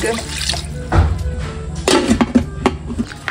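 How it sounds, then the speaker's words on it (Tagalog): Water splashes and trickles into a metal cooking pot up close for sour fish-head soup, with light clinks and knocks of the container. "Lalagyan lang din po natin ng tubig."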